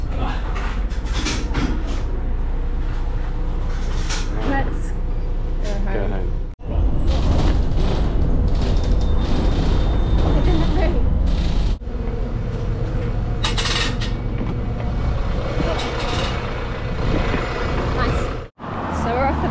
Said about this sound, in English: It's crazy they leave the buses running whilst no one's on them